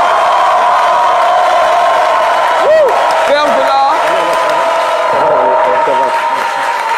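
Studio audience applauding and cheering on a TV set as a Congolese rumba star is welcomed on stage in Côte d'Ivoire, a steady dense crowd roar throughout with a host speaking over it.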